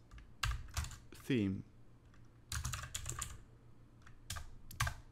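Typing R code on a computer keyboard, with bursts of clicking keystrokes in quick irregular runs, close and moderately loud, interrupted by someone speaking briefly.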